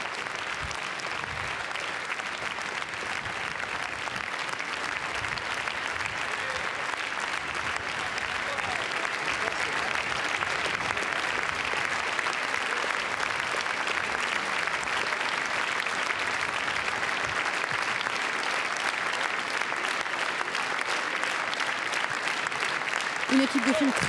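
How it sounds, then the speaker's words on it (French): Audience in the Grand Théâtre Lumière at the Cannes Film Festival applauds a film team, a dense, sustained wall of clapping that holds steady and swells slightly as it goes on, with a voice speaking over it. "Une équipe de films très très applaudie dans la grande salle Lumière."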